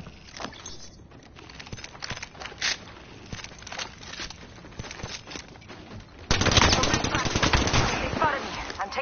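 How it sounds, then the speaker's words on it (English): Rapid automatic weapon fire in the battle royale game Apex Legends, loud bursts that become a dense sustained fusillade near the end, mixed with game effects and voice lines. "I'm taking shots. I'm taking fire."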